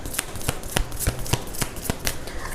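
Moonology oracle cards riffled and shuffled by hand during a tarot-style love reading, a run of quick papery flicks and soft slaps in an irregular rhythm, close and fairly quiet with no talking.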